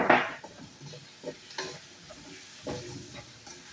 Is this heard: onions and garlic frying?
yes